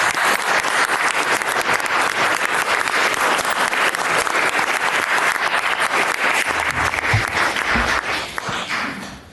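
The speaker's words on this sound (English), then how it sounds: "Let's give her a round of applause." Loud, sustained applause from the audience at a city council meeting, dense rapid clapping close to the microphone that holds steady before easing slightly at the very end, with faint voices and shuffling mixed in.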